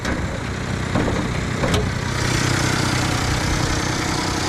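A small kei car's engine idles steadily after starting right up, a continuous even hum with a couple of brief clicks early on.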